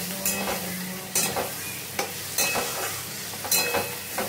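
Whole spices frying in a pan for paneer butter masala, with a constant sizzle and several distinct scraping strokes of a spatula spaced about a second apart; no talking.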